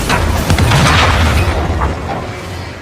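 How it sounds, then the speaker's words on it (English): A loud, booming explosion in a League of Legends game cinematic, with a deep rumble that swells and then slowly fades away. "The scene cuts right after Draven got caught in an enemy explosion"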